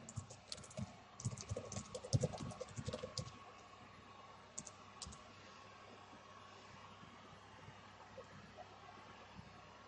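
Typing on a computer keyboard while an email subject and body are written, with a busy burst of clicking keystrokes over the first few seconds, a few scattered taps after, then quiet room tone.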